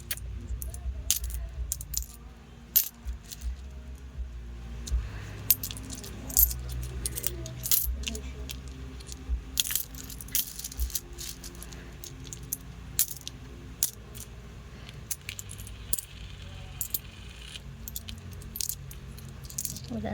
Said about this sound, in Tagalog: Ito na ang lahat ng ating nakalkal na barya mula sa wallet